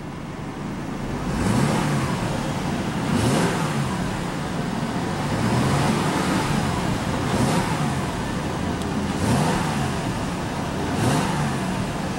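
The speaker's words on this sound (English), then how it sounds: "let's go ahead and rev up that V6 and see how she sounds" The 3.5 L V6 engine of a 2014 Mercedes-Benz E350 revs repeatedly, rising and falling in several swells over a steady idle, sustained and fairly close with no talking.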